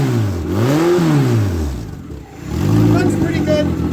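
A Dodge Neon engine running on a floor test stand, its revs rising and falling in smooth sweeps before settling into a steady run, loud and close with no one talking.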